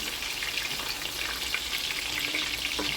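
Kakori seekh kebabs fry in oil over a medium flame, a steady close sizzle with fine crackling throughout.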